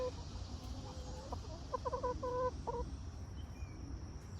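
A rooster clucks in a short run of soft, low calls, fairly distant, against a steady outdoor hum.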